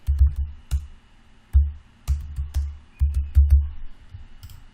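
Computer keyboard keys pressed and mouse buttons clicked in an editing session, sharp close clicks in short irregular bursts over about five seconds, alone with no talking.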